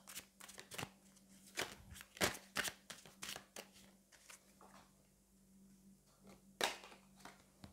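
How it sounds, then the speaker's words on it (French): A tarot card is handled and drawn from the deck: soft, close papery flicks and slides in quick uneven bursts, then a short pause and one last crisp snap. "je vais aller prendre une autre carte pour voir peut-être un petit peu plus au niveau du long terme"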